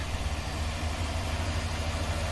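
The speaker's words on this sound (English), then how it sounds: "we'll fire up the quad track" A quad track tractor in Farming Simulator 19 idles with a steady low diesel rumble and even vibration, constant and close, with no voices over it.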